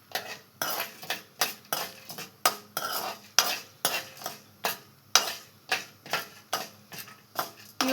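Peanuts and moong dal fry in hot oil while a spoon stirs them in regular, rhythmic scrapes about twice a second, close and clear over a soft sizzle.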